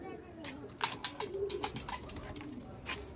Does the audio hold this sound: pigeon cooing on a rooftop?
yes